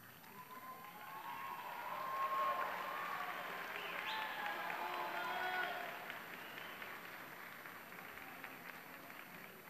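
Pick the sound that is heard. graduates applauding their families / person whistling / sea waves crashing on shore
graduates applauding their families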